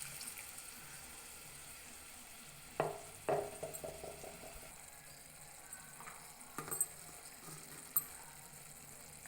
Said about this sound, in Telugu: అన్నీ పచ్చివి కదా, కొంచెం వాటర్ వేసుకుందాం